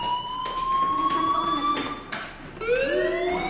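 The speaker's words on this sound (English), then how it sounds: "Hey, do you hear that fire alarm?" A rising and falling electronic alarm wails continuously in a building during a game scene, its tone sliding and restarting over a dense layer of background noise.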